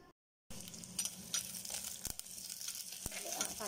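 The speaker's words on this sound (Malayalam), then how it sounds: "ഇതിലേക്ക് അരിഞ്ഞു വെച്ചിരിക്കുന്ന ഇഞ്ചി, ചതച്ച് വെച്ചിരിക്കുന്ന വെളുത്തുള്ളി, നീളത്തിലരിഞ്ഞിട്ടുള്ള മൂന്ന് പച്ചമുളക്, ഇത് നമുക്ക് ചേർത്ത് അതിൻ്റെ പച്ചമണം മാറുന്നത് വരെ ഒന്നിളക്കി കൊടുക്കാം." Ginger, garlic and green chillies sautéed and stirred in a pan for Palakkadan muttapuli, a soft continuous sizzle broken by crisp scraping clicks of the spoon, starting after a brief silence.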